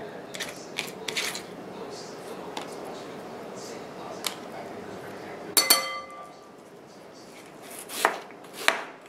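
A knife chops English cucumber on a cutting board for homemade ceviche, with scattered sharp close strikes and a few clinks, and the rest is quiet in between.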